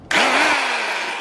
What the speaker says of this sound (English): I'm gonna use the step drill on this side and that side